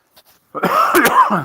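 A short burst of harsh coughing, close and loud, after a brief quiet start with a couple of faint sounds.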